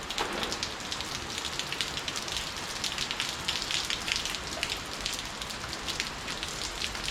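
Rain falls on a boat offshore at sea, a dense steady patter of drops that stays at an even level throughout with no voices.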